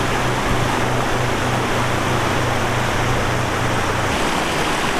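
Lamb Creek, a glacial meltwater outflow from the Lamb Glacier on the Great Divide Trail, rushes steadily beneath a bridge, a loud, continuous broadband roar of churning water close by with no talk over it.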